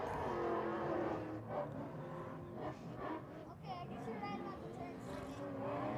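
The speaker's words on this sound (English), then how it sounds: "the truck out front, is so loud, I was just told there's no muffler on it." A race truck running straight pipes with no muffler roars on track during main event racing, a loud rasping engine note rising and falling as it revs, with a commentator talking over it.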